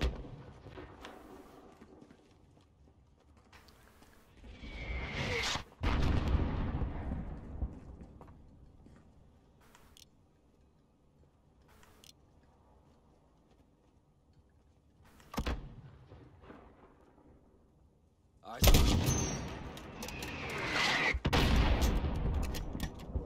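Gunfire and heavy explosions in the Call of Duty Modern Warfare campaign at the Highway of Death: scattered single shots and a few loud booming blasts with long rumbling tails, separated by quiet stretches of faint ambience.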